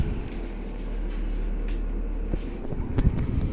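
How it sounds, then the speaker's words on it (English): A 1978 Lasko Galaxy 16-inch oscillating table fan, model 3151, with translucent rounded blades, runs at low speed, giving a steady, soft, close airy whir with a low hum underneath and a few faint clicks near the end. "Whirring sound as the blades spin. Yeah, this thing has a very nice low speed."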